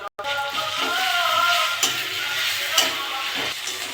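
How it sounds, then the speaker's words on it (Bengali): Ginger-garlic paste frying in oil over onions in a pan, a steady close sizzle with occasional stirring scrapes and faint crackles throughout. "আদা রসুনটা আমি একটু ভেজে নিয়েছি"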